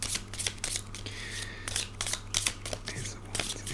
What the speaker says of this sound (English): Oh, the cards are going everywhere.